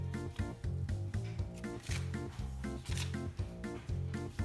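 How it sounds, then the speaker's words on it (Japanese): Athletic tape peels and unrolls in short, rhythmic ripping strokes as it is wrapped around an ankle, close and fairly quiet, with about eight repeated pulls and no talking. "足首にこうやってテープを巻いてあげるだけです"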